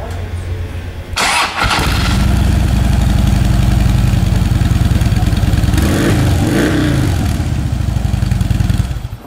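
A 2011 motorcycle engine starts and then idles with a loud, steady, close rumble that holds for several seconds with no talking.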